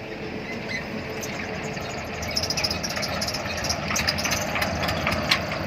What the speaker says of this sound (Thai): เครื่องก็เป็นเครื่อง 11 แรงเหมือนกัน